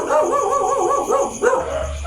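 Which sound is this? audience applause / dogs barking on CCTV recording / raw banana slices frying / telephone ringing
dogs barking on CCTV recording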